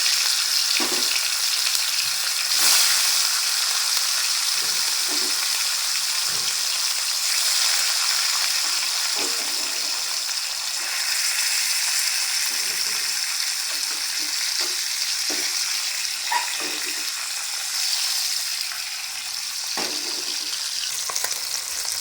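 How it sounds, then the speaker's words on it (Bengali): Catla fish steaks frying in smoking-hot oil for a Bengali doi katla, a steady close sizzle and crackle running throughout with occasional sharper spits and stirring clatter, no talk. "তেল গরম হয়ে গেছে ধোয়া উঠতে শুরু করে দিয়েছে এরপর একটা করে মাছ তেলের মধ্যে ফেলে দেবে"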